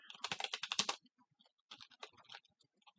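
Rapid keystrokes on a computer keyboard as a git commit command is entered, a dense burst of clicks for about a second, then sparser, lighter taps trailing off, close and alone.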